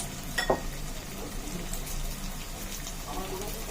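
Hot oil sizzles in a steady, hissing crackle as potato and carrot tikkis fry, with a brief louder spatter near the start.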